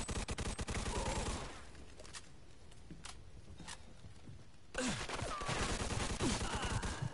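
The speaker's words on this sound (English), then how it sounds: "Oh, that was a headshot." Rapid bursts of gunfire from the Mafia 2 video game, with dense rattling volleys at the start, a quieter stretch with a few isolated sharp shots, then heavy continuous firing returning loud and close near the end.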